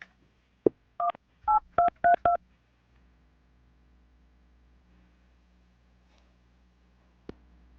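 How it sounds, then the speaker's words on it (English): A quick series of telephone keypad tones beeps out a number, about seven short dial tones in rapid succession, followed by quiet line hum. "I'm going to dial her phone number right now"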